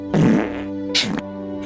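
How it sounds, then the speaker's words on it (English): Two short, low, buzzy fart noises sound close and loud, the first longer and the second briefer, in a Halo Infinite game clip. "These little fart noises, man."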